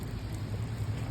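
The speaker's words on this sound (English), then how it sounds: "It is raining outside the school" Steady rain falls outside a school, a dense, even hiss of drops with a low rumbling undertone throughout, no voices present.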